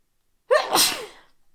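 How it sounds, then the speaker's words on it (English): A single sharp human sneeze, near and fairly loud, with a quick breathy intake leading into the burst and a fading tail, alone with no speech around it. "Pardon me with the sneezes."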